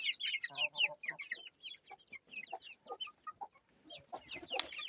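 Baby chicks in a coop peep and chirp continuously at close range, a busy overlapping chorus of high bright calls with a few lower clucks mixed in.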